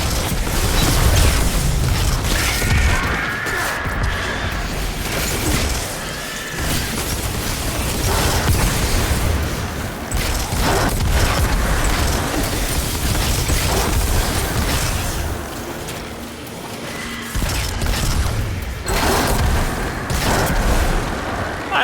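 Explosions set off by enemy deaths in the video game Destiny 2 with the Sunshot exotic, repeated booms and bursts layered over continuous mechanical gunfire and game noise.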